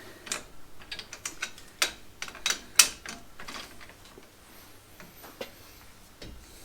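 A 19 mm socket on a 1/2 inch drive ratchet tightens a new winch fitting on a small boat, with bursts of sharp ratchet clicks and metallic knocks in irregular runs, close by and without speech.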